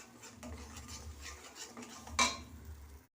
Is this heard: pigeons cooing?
no